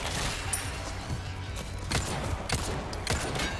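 Gunfire in the video game Resident Evil 4 Remake, several sharp shots in irregular succession over a steady background of game sound and music, moderately loud.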